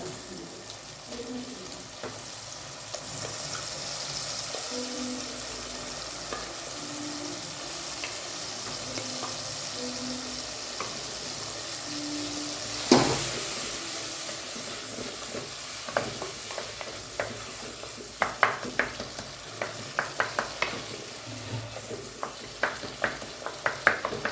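Tomatoes and turmeric sauté in a pan for sambar with a continuous quiet sizzle, joined by a sharp knock midway and increasingly frequent spoon scrapes and clinks toward the end.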